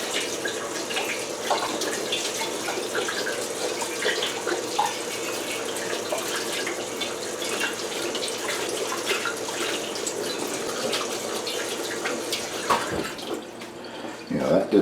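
Water from a tap runs steadily through a plastic cheese mat, a continuous splashing rush close by, with light speech at moments.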